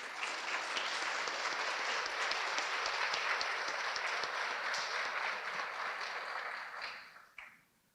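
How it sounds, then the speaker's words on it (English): An audience at a high school National Honor Society ceremony claps for students: dense, steady applause that holds for about seven seconds before quickly dying away. "Let's give these students a round of applause."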